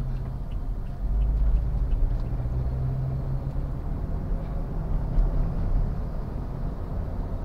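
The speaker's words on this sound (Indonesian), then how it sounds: "saya duluin aja nih mobil truk-truk ini, aduh, truk-truk proyek" Construction project trucks pass on the Pantura road between Cirebon and Brebes, a steady low engine and tyre rumble that swells as they go by, with a voice talking over it.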